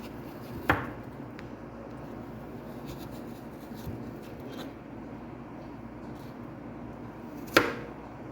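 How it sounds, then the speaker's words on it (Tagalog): A knife cuts through squash (kalabasa) for crab in coconut milk, with two sharp chopping knocks against a board several seconds apart over a quiet, steady room hiss. "Ayan, hiwain natin yung kalabasa."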